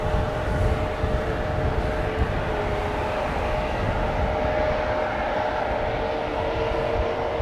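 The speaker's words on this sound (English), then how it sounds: "KLM A321neo, which is going to Zurich." KLM Airbus A321neo departing Amsterdam Schiphol for Zurich, a continuous jet engine rumble with a faint steady whine, moderately loud and unbroken with no voices.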